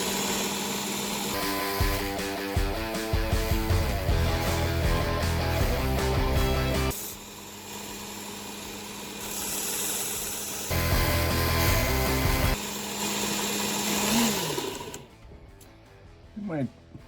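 A Sabre Japan fish knife ground against a 120-grit belt on a belt sander, loud steady machine whine with the blade pressed in during several passes, broken by a short lull before the grinding resumes and then winds down.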